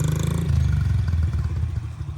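Honda CRF 50 dirt bike ridden by a child, its small engine putting along loudly and close with a pulsing, uneven note that eases off toward the end.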